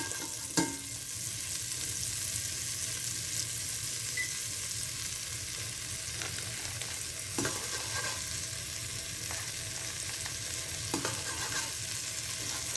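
Four tablespoons of butter melting in a pot over lowered heat: a continuous soft sizzle with a few sharper pops and clinks of stirring scattered through, and no one speaking.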